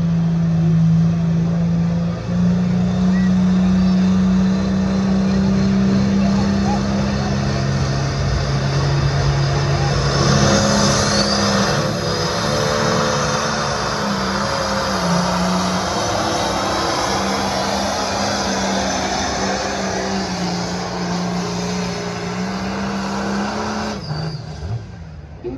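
A pulling tractor's engine roars loud and sustained at a county fair truck and tractor pull in Waterloo, Illinois, its steady harmonic drone dropping in pitch partway through as the run goes on, with crowd and track noise underneath.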